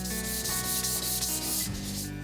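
Sandpaper rubs steadily back and forth across a wooden lacquer-painting panel, a close, continuous scratchy rasp in repeated strokes with no talk.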